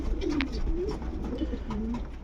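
A Dutch mother pigeon cooing as she arrives in a loft to feed her young: low, throaty rolling coos repeated several times, close and fairly loud over steady background hum, with no talk.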